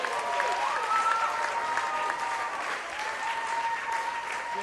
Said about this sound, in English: So Jess Dillon receives the appreciation of a very vocal Gap crowd with 10 minutes to play.